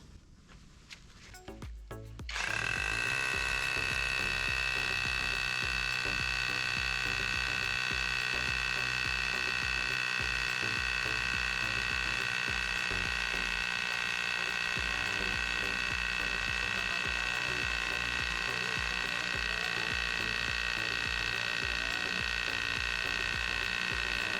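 OSUKA cordless three-mode rotary hammer drill fitted with a 19 mm bit, a click and brief handling noises followed by a sharp high-pitched whine that runs loud and steady for over twenty seconds, close by.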